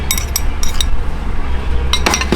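A spoon clinking against a pot as sugar is added to cooking tom yum soup with fish, a few sharp metallic taps near the start and a quick cluster near the end over a low background hum.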